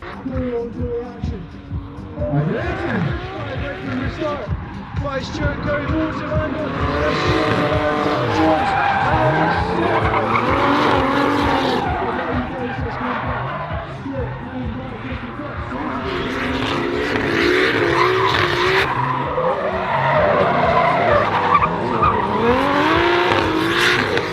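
Nissan S14 on a drift chase run in a team battle: a loud, sustained engine roar with repeated tire squeals and skidding, rising and falling over many seconds, close by with a voice talking over parts of it.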